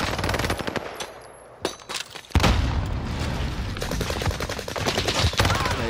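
Rapid bursts of video game gunfire crackle in close succession, automatic fire rattling with a few heavier booms and brief lulls between volleys.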